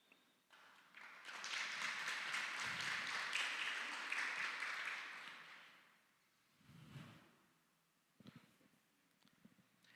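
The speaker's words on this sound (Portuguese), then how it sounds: "Você que pode, se assente e após se sentar, aplauda o nome do Senhor." A church congregation claps after sitting down, a swell of applause rising quickly, holding for several seconds and fading, followed by a few scattered claps and light shuffling.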